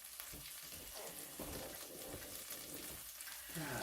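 Beef bouillon sizzling in leftover burger grease in a pan, a soft, steady crackle and hiss with scattered pops, fairly faint and close, no voices over it.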